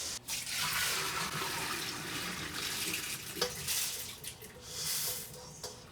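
Tap water pours steadily into a sink over dry beans being rinsed, a continuous splashing rush that swells and dips with a few sharper splatters, close by and with no talking.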